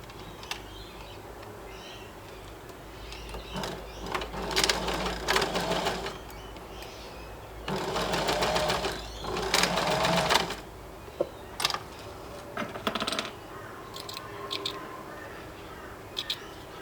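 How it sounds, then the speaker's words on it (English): A sewing machine stitches ribbon onto the edge of a knitted sleeve in several short bursts of rapid mechanical whirring, separated by pauses and small clicks, and no one talks over it. "Now I'll just turn that one around, and we'll just stitch that down."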